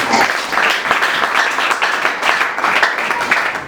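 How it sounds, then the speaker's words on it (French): Worshippers at a church sermon break into applause, a dense burst of many hands clapping at close range, fairly loud and steady for a few seconds with slight swells. "Applaudissez l'esprit de Dieu"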